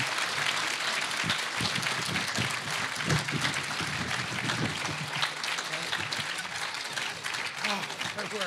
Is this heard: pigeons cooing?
no